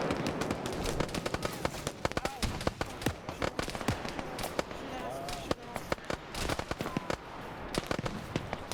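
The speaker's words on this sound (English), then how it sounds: "I'm hearing a lot of gunfire." Video game gunfire during a military campaign, rapid sharp cracks and bursts repeating irregularly throughout, close and loud, with voices talking over the shooting.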